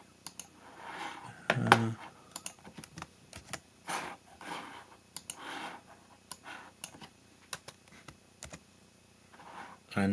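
Keys tapped on a computer keyboard as a password is entered, scattered light clicks in short uneven bursts over a faint hum, close and fairly quiet.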